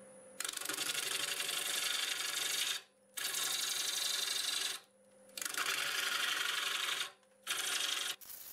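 A freshly sharpened 5/8 bowl gouge cuts lightning-struck pear wood on a lathe spinning at about 720 RPM, giving a steady rasping hiss in three long passes separated by short pauses, close and fairly quiet.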